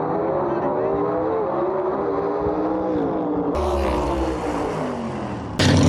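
Tri-5 Chevrolet gasser race cars drag racing, a continuous loud engine roar with wavering pitch, cutting abruptly into brighter, harsher noise toward the end.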